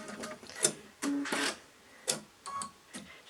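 A sewing machine stitches down a fabric point at a corner in short, quiet bursts of rapid clatter separated by pauses, close by with no talking.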